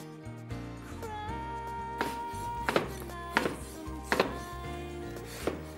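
A knife cuts pickled pear into slices on a board, with several soft, evenly spaced chopping taps heard close up over steady background music.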